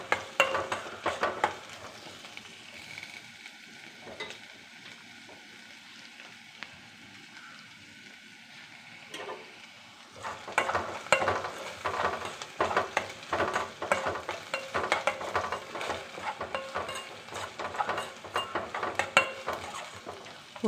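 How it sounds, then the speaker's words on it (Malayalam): Ginger, onion and green chilli sautéing in a pan, with a steady close sizzle and a spoon repeatedly stirring and scraping against the metal, growing busier and louder in the second half, no voices. "ഇത് കുറച്ച് ഇഞ്ചി, ഉള്ളി, പച്ചമുളക് ഇത് നമുക്ക് നല്ലോണം വാട്ടിയെടുക്കാം."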